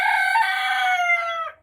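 A backyard rooster crows once on a country property, a loud, close, drawn-out cock-a-doodle-doo that rises and then trails off at the end, with nothing else audible.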